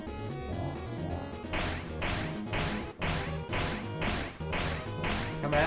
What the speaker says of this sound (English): Undyne is smashing spears onto the ground.